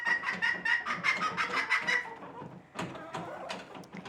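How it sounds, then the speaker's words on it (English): A chicken clucks in a chicken barn, a rapid string of close, loud clucks and squawks that pauses briefly, then resumes with a few more calls. "this is a chicken barn"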